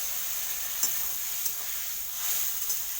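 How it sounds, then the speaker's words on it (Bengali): Mutton sautés with spices, ginger water and a little added water in a pan. A soft, even sizzle and hiss runs through, with a few light stirring scrapes and no voices. "আর কিছুটা জল দিয়ে ভালো করে কষে দেবো"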